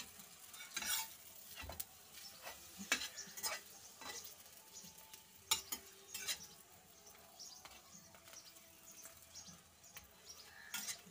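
An aloo paratha fries in oil in a pan, with a faint crackling sizzle broken by repeated sharp spatula scrapes and taps, fairly quiet and close.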